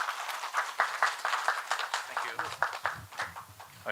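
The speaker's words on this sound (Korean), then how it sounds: "박수를 부탁드리겠습니다." At an international temple food symposium, an audience claps sparsely to welcome the final speaker, with distinct, separate claps at a moderate distance and faint voices murmuring underneath toward the end.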